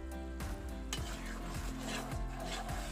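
Minced meat is stirred and fried in a pan, with close, repeated scraping strokes of a spatula against the pan over a soft background hiss; no one talks.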